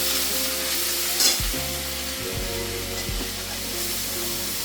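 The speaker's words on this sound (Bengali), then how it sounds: "আদা রসুন বাটাটা দিয়ে দিচ্ছি এবার এটা একটু কষিয়ে নেব" Ginger garlic paste sautéing in a pan over lowered gas, a steady bright sizzle with a low appliance hum beneath and one louder scrape of stirring near the start.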